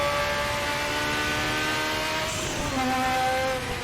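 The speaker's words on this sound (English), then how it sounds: "the wonderful turbo whistle from the wastegate as you change gear or lift off the throttle" A race car engine in RaceRoom Racing Experience drones steadily at high revs, its pitch shifting through a gear change with a faint turbo whistle from the wastegate, loud and close without any talk.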